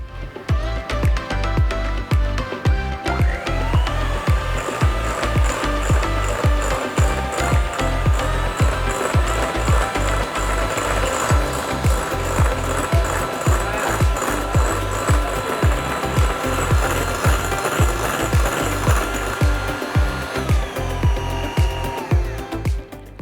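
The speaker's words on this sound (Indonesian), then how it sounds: "Sekarang kita akan kocok putih telur dan gula pasir. Ini kita kocok sampai kaku." An electric hand mixer whips egg whites and sugar to stiff peaks for a strawberry tres leches cake, a steady loud motor whir with rattling beaters running continuously throughout, no talk over it.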